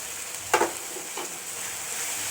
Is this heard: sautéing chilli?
yes